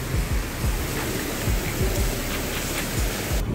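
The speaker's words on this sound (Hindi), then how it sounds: "देखो बारिश कैसी हो रही है" Steady rain falls outdoors, a dense even hiss with no talk, broken by a few soft low thumps.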